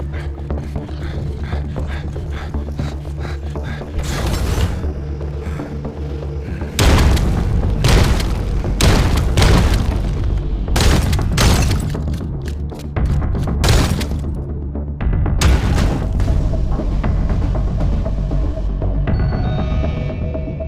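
Pipes are smashed in a horror game set in an asylum bunker, with heavy booms and thuds in repeated bursts, some overlapping with shattering crashes, loud and close over a continuous low rumble.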